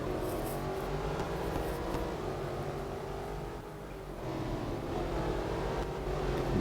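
A Maserati GranTurismo MC Stradale's 4.7-litre V8 hums steadily in Real Racing 3, a constant loud drone with mild swells in pitch and no talking over it.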